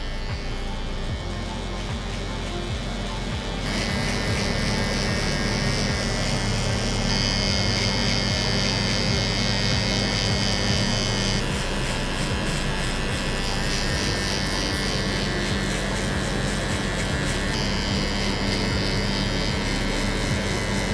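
Electric hair clippers remove bulk during a drop fade haircut, a loud continuous buzzing hum that runs steadily for about twenty seconds, with slight shifts in pitch as the cutting changes.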